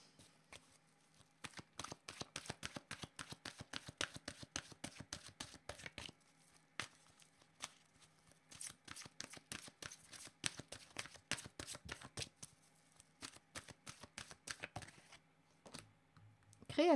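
Tarot cards shuffled by hand, producing rapid, crisp riffling and flicking bursts in quick runs with short pauses, close and clear over about seventeen seconds, with no talking.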